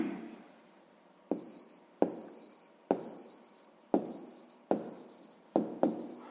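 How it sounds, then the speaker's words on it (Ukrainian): Pen strokes write down the answer to a sixth-grade maths exercise on fractions, a close series of about seven short scratchy strokes in a steady rhythm, alone with no voice. "записуємо тоді відповідь"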